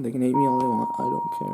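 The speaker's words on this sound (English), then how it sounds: "Oh, that's my phone." A phone chimes with a sustained bell-like tone for an incoming text message, sounding close and clear while a person keeps talking over it.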